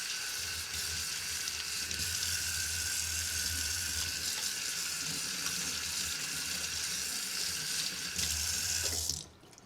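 Steady water runs from a faucet into a sink as a pair of Yeezy sneakers is rinsed off, a constant close splashing flow that stops abruptly near the end, with no talking.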